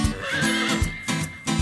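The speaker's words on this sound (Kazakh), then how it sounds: "Мынау жылқы." A horse gives a short whinny on a farm, a single close call with a few breathy bursts, standing alone without talk.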